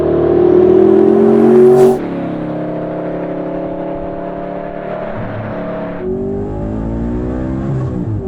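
750 hp bi-turbo Audi R8 accelerating hard, a loud close engine roar with a rising rev in the first two seconds, then a sustained lower drone that shifts in pitch near the end, heard alone without talk.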